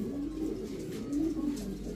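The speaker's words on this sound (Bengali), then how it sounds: "এগুলা সব বাছাই করা কবুতর আমার, এগুলা এই মাদি কবুতর" Selected female racer pigeons coo softly and repeatedly, low throaty calls rising and falling close by, with no talking over them.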